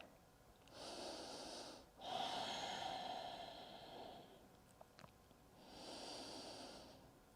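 Slow, deep breaths during a held yoga pose, close and quiet: three long airy exhalations and inhalations with pauses between them, plus a few faint clicks. No speech.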